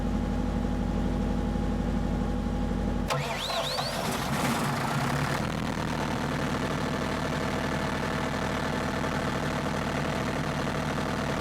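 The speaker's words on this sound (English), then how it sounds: "I'm going to crank the engine to ensure there is no pending code." A Perkins engine cranking over and settling into a steady idle, with a brief rough, rattling start burst between running sounds and no voices.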